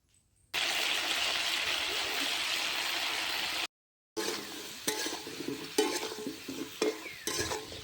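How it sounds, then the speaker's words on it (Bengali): Pointed gourd pieces frying with salt and turmeric in a village kitchen, a steady loud sizzle for several seconds, a short break, then quieter frying with stirring scrapes and clinks. "সামান্য লবণ হলুদ দিয়ে পটলগুলো ভেজে নেব।"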